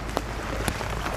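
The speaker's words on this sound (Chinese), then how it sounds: "哇，不好，快下大雨了，下大雨了" Heavy rain pours down at an old drained fish pond, a dense, even hiss of drops on surfaces with a couple of sharper splashes standing out, no voices heard.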